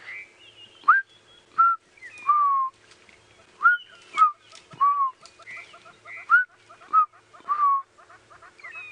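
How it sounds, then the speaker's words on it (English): A chin-spot batis calls repeatedly on an early-morning safari drive, giving clear, close, descending whistled notes in a steady series with short gaps between phrases. "A chin-spot batis has a wonderful call."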